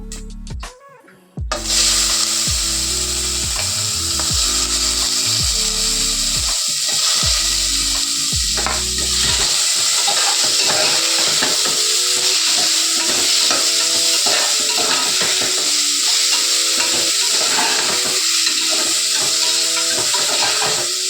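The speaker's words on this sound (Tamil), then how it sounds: "ஆனியன் போட போகிறோம்." Onions frying and being stirred in a hot pan for a coconut milk vegetable pulao, a steady loud sizzle with scraping stir strokes throughout, with music heard over the opening seconds.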